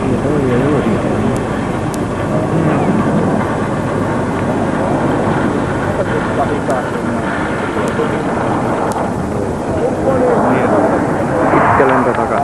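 F/A-18 Hornet fighter jets land at Pirkkala, Finland in 1995, giving a loud, continuous broadband jet roar that swells toward the end, with people talking throughout.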